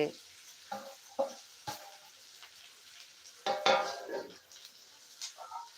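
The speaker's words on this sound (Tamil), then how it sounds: "கொஞ்சமாக வந்து வெங்காயம் சேர்த்துக்கலாம் வெங்காயம் சேர்த்துட்டு" Onions sauté in a pan for a village-style egg curry, giving a soft sizzle close by. A spoon taps and scrapes against the pan in scattered bursts.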